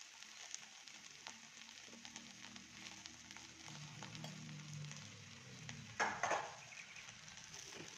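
Okra sautéing in ghee and oil with turmeric and chili, a soft, steady sizzle close by that runs throughout, with a brief louder scrape of stirring near the end and no talking.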